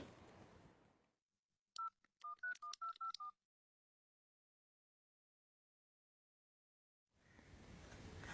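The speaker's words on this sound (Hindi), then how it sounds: "तुम ऐसा करो कि हमजा को फोन करो" Quick run of about eight touch-tone keypad beeps as a phone number is dialed to place a call, clear and close in near silence, with brief room noise before and after.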